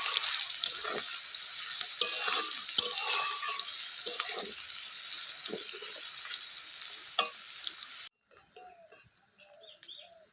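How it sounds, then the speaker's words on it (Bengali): Chopped onions frying in oil for potato chicken curry sizzle steadily and close, with scattered scraping stirs and small knocks throughout, then the frying drops off sharply near the end leaving quieter clicks. "পেঁয়াজটাকে দিয়ে ভালো করে ভেজে নিচ্ছি।"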